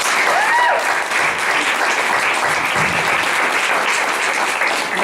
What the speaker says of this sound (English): Another round of applause for Shane McCrae.